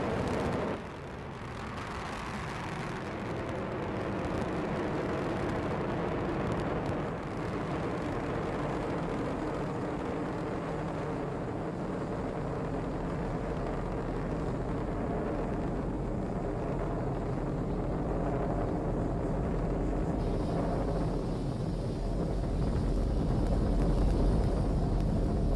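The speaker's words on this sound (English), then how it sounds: "And liftoff of the 22nd SpaceX cargo resupply mission, bringing new solar arrays to the International Space Station" A SpaceX Falcon 9 rocket lifting off on a cargo resupply mission to the International Space Station roars as a broad, continuous rumble that swells slightly toward the end, with no voices.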